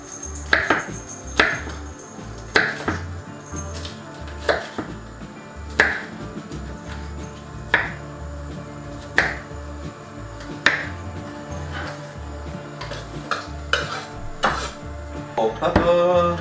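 A knife slices a bell pepper into rings on a cutting board, giving a steady run of sharp, crisp chops spaced about a second or two apart, close and clear, with faint kitchen background and no talk.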